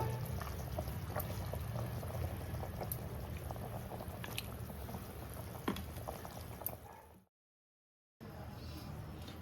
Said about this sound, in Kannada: ತೆಗೆದ್ಬಿಟ್ಟು ತಣ್ಣೀರೆಲ್ಲ ಹಾಕ್ಕೋಬೇಕು.